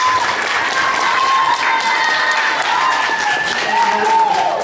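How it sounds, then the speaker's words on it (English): Audience applause and cheering at a student talent show, a steady crowd wash with whoops and a voice calling out over it throughout. "please put a nice applause together for Mr."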